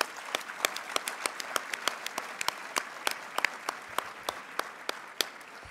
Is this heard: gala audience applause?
yes